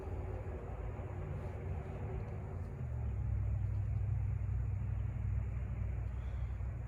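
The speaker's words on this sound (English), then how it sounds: "and that is a really loud truck." A loud truck rolls past outside near a home garden, a low rumbling engine that swells noticeably halfway through and holds as a heavy drone, heard from some distance.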